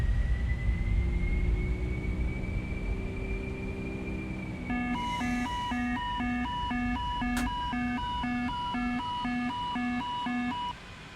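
An airliner in X-Plane 12 rolling out after landing with reverse thrust, a steady jet whine and roar that fades slightly, joined midway by repeating electronic cockpit beeps and a brief sharp click.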